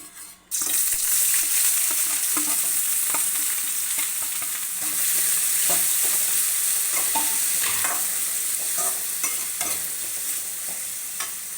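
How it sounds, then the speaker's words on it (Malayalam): Chopped potatoes, onion and green chilli frying in a pan, with a steady loud sizzle throughout and repeated scraping stirs of a utensil against the pan, no voices. "ഉരുളൻകിഴങ്ങും സവോളയും പച്ചമുളകും അരിഞ്ഞ് വെച്ചിട്ട് ഇട്ട് കൊടുക്കുവാണേ"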